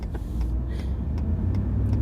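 A truck engine restarts while stopped at a red light, a low, steady idle rumble close by inside the cab, with a few faint clicks and no voices.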